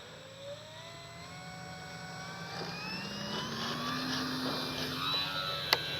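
A Dynam F6F Hellcat RC model warbird with takeoff flaps set, its electric motor whining and steadily rising in pitch and volume as it throttles up for takeoff, with a faint wind-noise background.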